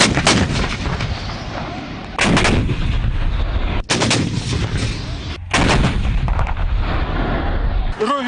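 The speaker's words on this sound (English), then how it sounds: "The artillery units of the Azerbaijan army are inflicting strikes at the firing points of the Armenian armed forces" Azerbaijani army artillery units fire at enemy firing points, loud booming blasts one after another, each followed by a long rumbling roar, heard close and with no talking.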